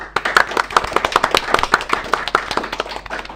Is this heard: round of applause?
yes